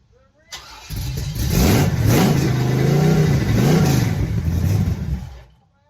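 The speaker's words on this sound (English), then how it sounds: "that blown small block Chevy I built for the truck." A blown small block Chevy V8 built for a square-body truck cranks and catches after a brief pause, then revs up and down in loud, close surges before cutting off.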